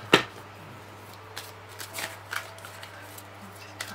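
A deck of tarot cards riffle-shuffled up close in a quiet room, one sharp ruffle at the start followed by lighter scattered shuffling and tapping under a steady low hum.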